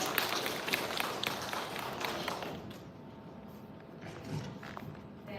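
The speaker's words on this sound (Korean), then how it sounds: "큰 박수 부탁드립니다" An audience at a school curriculum briefing for special-education parents claps to welcome a presenter. Moderate applause with close individual claps fades out after about three seconds, leaving quiet room tone.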